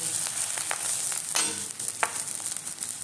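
Onion fritters (peyaju) frying in a pan of hot oil, a steady close hiss broken by a few sharper crackling pops and spits, with no voices.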